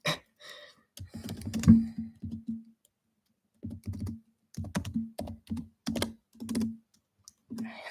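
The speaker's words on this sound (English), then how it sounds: "Listen to the typing, isn't it great?" Computer keyboard typing in quick bursts of close, crisp key clicks separated by short pauses, loud against an otherwise quiet room.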